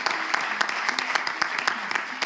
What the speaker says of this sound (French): Applaudissez à fond.